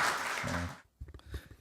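Applause from a seminar audience welcoming a National Assembly vice speaker to the podium, a dense steady burst that stops abruptly, followed by a few scattered claps and thuds.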